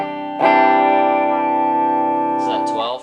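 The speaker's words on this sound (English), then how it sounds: "With the reverb, the plate reverb." A sustained electric guitar chord rings out through a Bogner Alchemist amp head with plate reverb at clean settings, bright and bass off. It holds for about two seconds with a lush reverb tail, and a voice briefly speaks near the end.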